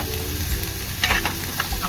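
Onion and curry leaves fry in a pan of oil for sweet corn upma, a close, steady sizzle with a brief louder crackle midway and no voices.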